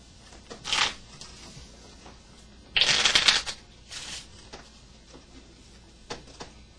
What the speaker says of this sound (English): You shuffle the cards anywhere you'd like.